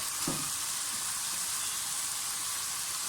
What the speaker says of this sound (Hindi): अदरक लहसुन और प्याज फ्राई हो गया और साथ ही इसमें चिकन डाल दें।